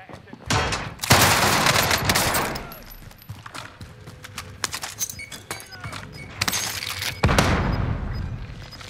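Gunfire in Call of Duty, dense bursts of automatic weapon fire and scattered single shots rattling in waves, loud and close, with booming impacts mixed in over continuous chaotic game noise.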